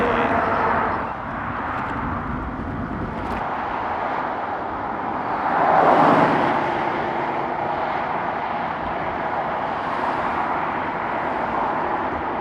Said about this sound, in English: Traffic noise and volume reach an extreme level